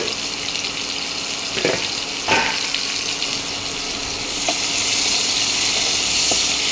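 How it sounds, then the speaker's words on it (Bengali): Chopped onions hit hot oil for a broccoli mushroom masala, giving a steady close hiss and sizzle with a few soft clicks and stirring knocks, growing slightly fuller toward the end. "তেল গরম হয়ে গেছে, এবার আমি এতে পেঁয়াজ কুচি দেবো।"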